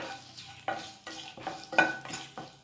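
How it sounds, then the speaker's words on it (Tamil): Ginger and dried red chillies roasting in a little oil, soft sizzling broken by several distinct scrapes and stirs of a spatula against the pan, close and fairly quiet. "கொஞ்சம் இஞ்சியும் வரமிளகாயும் போட்டு வறுத்துக்கிறோம்"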